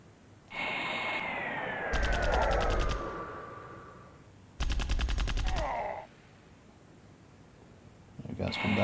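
Gunfire in the strategy game Epic 40,000: Final Liberation, with two loud rapid bursts of automatic fire a few seconds apart, mixed with tonal game effects, and a third burst starting at the end.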